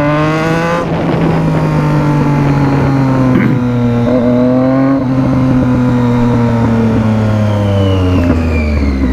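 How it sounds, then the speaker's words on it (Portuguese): A loud Triumph Street Triple motorcycle with a straight-pipe exhaust idles and revs close by, its pitch rising and falling with the throttle throughout. "Eu vou cortar giro com a minha moto."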